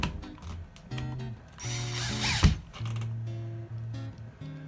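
A power drill drives supplied screws into a light switch box while three-way switches are installed. The motor whirs in short, close bursts with ratcheting clicks and a sharp clack between runs.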